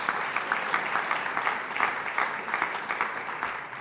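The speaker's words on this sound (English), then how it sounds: "go ahead, you can applaud that" Fairly distant, soft applause from the audience at a university State of the University address, a continuous patter of many hands with gentle swells, heard alone without speech.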